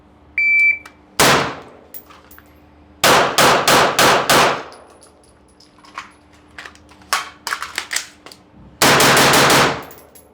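Rifle shots ring out at a shooting range, loud close rapid strings of cracks with metallic clangs from steel targets, grouped into several bursts separated by quiet gaps.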